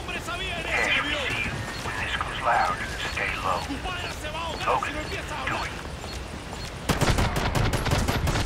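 Gunfire in the jungle combat of the video game Call of Duty Ghosts: soldiers' radio chatter over a steady background, then a sharp burst of rapid shots erupts near the end.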